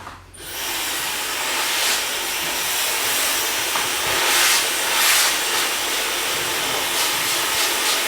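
A hair dryer fitted with an air-direction nozzle blows a loud, continuous hiss of air in a barbershop, starting suddenly and holding steady with slight surges throughout.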